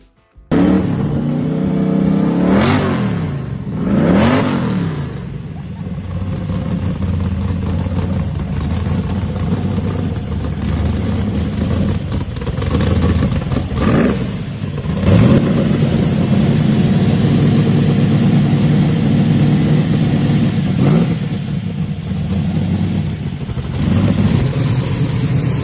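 A 1982 Chevrolet S10 pro street truck with a 406 small block and Dart aluminum heads idles with a loud, lumpy rumble, broken by several sharp revs that climb and fall back, heard up close with no talking.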